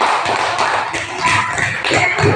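Students in an elementary classroom clap in unison for a group, steady rhythmic bursts of hand claps, close and loud, with no voices.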